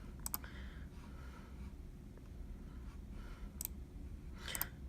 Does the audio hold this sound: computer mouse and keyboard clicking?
yes